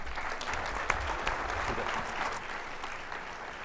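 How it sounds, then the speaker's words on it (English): Keynote audience giving a round of applause, a fairly quiet but dense wash of many hands clapping that runs evenly for nearly four seconds with a few sharper claps poking through. "One more round of applause for David"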